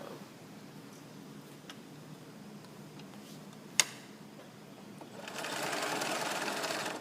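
A sewing machine stitches a child's surgical cap, a steady faint mechanical hum with a sharp click near the middle, then a louder, denser whir of faster stitching toward the end.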